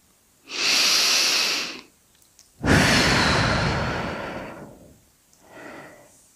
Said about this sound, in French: je peux augmenter un peu mon niveau de vigilance par une respiration plus tonique